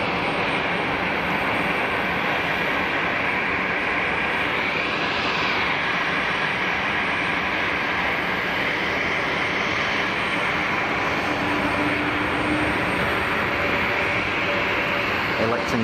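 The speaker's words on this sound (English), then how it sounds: "A220-300" An Airbus A220-300 jet departs Geneva for Zurich with a loud, steady broadband engine roar that fills the whole stretch, holding constant with a slight swell partway through.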